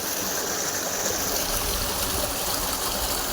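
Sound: water flowing out of pipe

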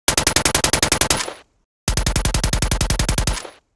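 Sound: designed modern gun sound effect with extra low impact

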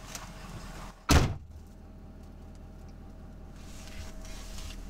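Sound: door being opened

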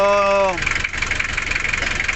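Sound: overhauled Mazda Bongo RF engine running

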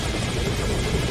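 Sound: helicopter in video game Metal Gear Solid V

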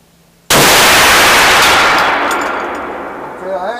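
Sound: rifle shot, Hornady 45 caliber 280 grain BoreDriver

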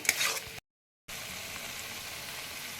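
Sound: frying spice masala for doi pabda fish curry

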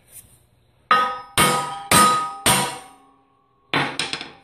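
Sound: hammer knocking a tack-welded steel piece loose

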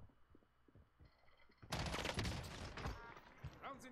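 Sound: incoming gunfire in a video game (Warzone)

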